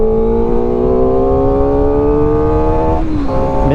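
A SRK421 RR sport motorcycle revving hard while being ridden, a loud close buzzing engine note climbing steadily in pitch, then dipping briefly with a gear change before rising again.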